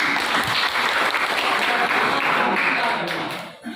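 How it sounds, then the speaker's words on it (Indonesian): An audience applauds after a classroom presentation on the church and multiculturalism, a dense, loud burst of clapping that fades out near the end. "kita berikan aplaus"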